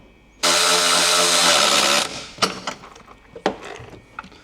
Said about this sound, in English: Just tap up once, you'll hear the IBR motor engage and the arm move forward slightly.